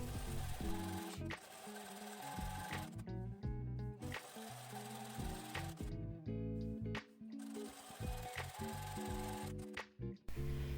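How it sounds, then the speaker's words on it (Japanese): A sewing machine runs in steady bursts while stitching a 7 mm-wide topstitch that holds down the centre seam allowance of a jumper skirt, the motor whirring loud and close with brief pauses between runs and no talking. "中心の縫い代を押さえるように7ミリ幅でステッチを入れます。"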